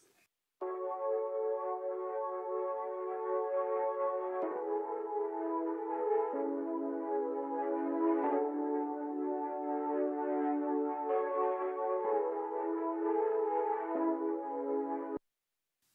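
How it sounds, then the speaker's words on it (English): A sustained pad from the u-he Repro-5 synthesizer plays soft held chords, changing harmony every few seconds, steady and smooth, before cutting off abruptly. "This is a pad from the Repro 5 from UHE."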